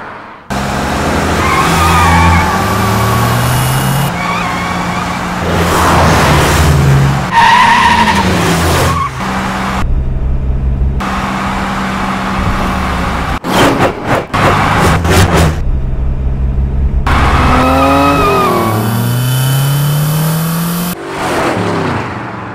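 A car in a Hindi-dubbed 2018 action film skids hard with loud tire squeals and engine revving, several sharp screeching bursts over dramatic movie music, ending in abrupt stops.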